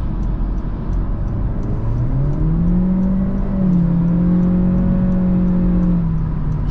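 A 2024 Honda Civic's 1.5-litre engine accelerates and keeps pulling, its revving drone rising steadily in pitch from inside the cabin, loud and continuous with no talk.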